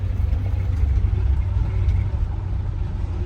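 A 1970 Ford 600 hay truck engine running steadily up close with a low, throbbing rumble and a slightly rough idle from a gumming carburetor, unbroken throughout with no talk.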